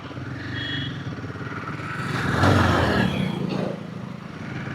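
A Himalayan 450 motorcycle runs steadily while being ridden, its engine note swelling briefly mid-ride as a gear shift goes through, then settling back into a continuous, moderately loud drone.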